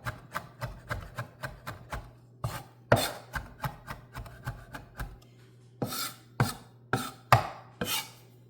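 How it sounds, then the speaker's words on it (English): A knife chops fresh oregano on a cutting board in quick, sharp, evenly spaced strokes, loud and close, with short pauses between bursts and no talking. "Just gonna chop it"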